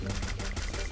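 Rapid gunfire in the Free Fire video game from a flamethrower-type pistol: a dense, continuous stream of close, loud shots with no pauses.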